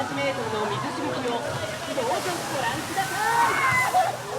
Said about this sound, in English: warning, due to winds, you may get splashed